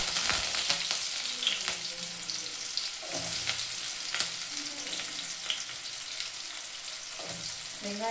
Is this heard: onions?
yes